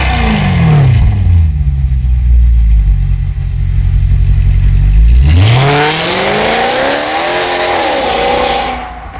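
A Maserati Quattroporte S with a custom exhaust and its valves open revs hard and loud, rising, falling back to idle and then climbing again in a second roaring rev that fades at the end.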